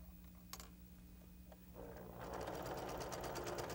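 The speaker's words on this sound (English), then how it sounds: "And then I'm going to finish sewing." A sewing machine stitches quilt pieces along a diagonal line, starting with a few faint clicks, then running into a rapid, steady mechanical whirr that grows louder near the end, with no talk.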